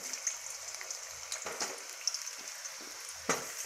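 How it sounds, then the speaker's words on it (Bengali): Cut potatoes go into hot oil, making a soft, continuous sizzle with a few brief crackling bursts and spatters, heard quietly and close with no talking. "এবার আমরা ওই তেলে কেটে রাখা আলুগুলো দিয়ে দেব। আলুগুলোকে একটু ভেজে নিতে হবে।"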